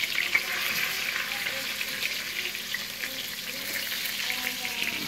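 Kokanee salmon cook over heat outdoors, giving a steady, fairly loud crackling sizzle that runs unbroken throughout with faint rustling and no talk.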